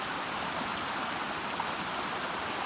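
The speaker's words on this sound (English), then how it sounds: "Water for thousands, tens of thousands of years, running down, wearing out the rocks as it passes" A mountain stream on Snowdon tumbles over rocks, giving a steady, close, unbroken rushing hiss of water with no voices.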